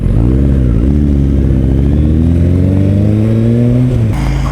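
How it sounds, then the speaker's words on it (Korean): Loud engine roar from a Ferrari sports car passing while riding a motorcycle on a seaside road, the pitch climbing steadily over several seconds before dropping off sharply. "어우 페라리 오, 오 비싼 차"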